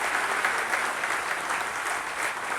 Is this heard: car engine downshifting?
no